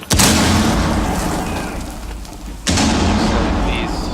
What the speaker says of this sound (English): Frag grenade, hot! Tossing a frag!